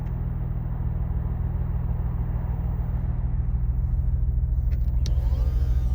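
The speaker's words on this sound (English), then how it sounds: "there is a difference in exhaust tones" Active exhaust of a 2026 Dodge Charger in sport mode, a steady deep idle rumble heard from inside the car, constant and fairly loud, with a couple of faint clicks near the end.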